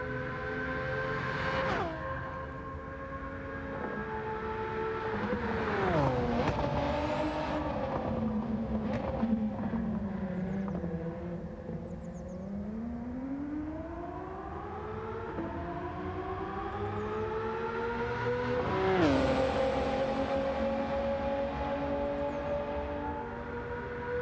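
Nissan R32 GT-R Nismo race car in Gran Turismo 7, racing the Le Mans circuit: a loud, continuous engine note climbing and dropping through repeated gear shifts, sustained alone with no talking.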